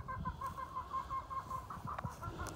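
Chickens cluck softly and steadily while they scratch through a garden compost pile, a faint, low, close chatter with a few sharper calls.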